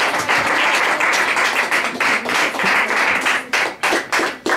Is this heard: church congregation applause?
yes